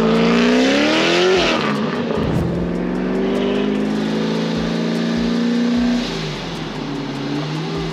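Supercharged Corvette C7 with over 1,100 horsepower revving hard, loud and close, its engine note climbing then dropping before settling into a steady rumbling idle with a few sharp pops.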